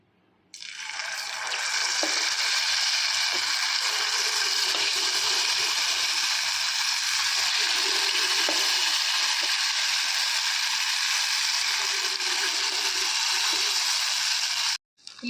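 Rice golibaje batter balls dropped into hot oil in a round vessel, producing a loud, steady, close sizzle that starts abruptly and holds evenly for about fourteen seconds before cutting off.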